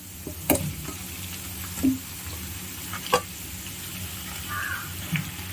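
Chicken fries in oil with sautéed onion and ginger-garlic paste, giving a steady close sizzle. A few sharp utensil knocks and stirring scrapes break through, and a faint crow calls in the distance.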